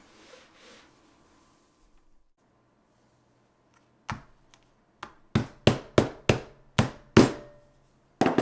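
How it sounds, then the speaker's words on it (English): Sharp hammer blows strike in a quick series after a quiet stretch, loud and close, pushing magnets into a crochet handbag, with a few isolated taps before the steady hits begin. "I think I'm going to have to get a hammer to push those down."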